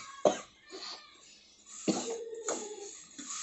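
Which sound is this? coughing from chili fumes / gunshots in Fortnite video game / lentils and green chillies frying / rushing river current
coughing from chili fumes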